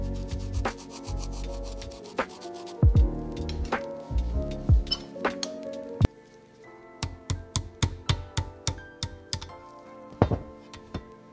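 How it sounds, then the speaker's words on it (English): A cylinder is eased off a rusty 1947 Harley-Davidson Knucklehead engine during restoration, giving a run of close scraping, rubbing and sharp metallic clicks and knocks, with rhythmic taps toward the end. "gently lifting the cylinder now"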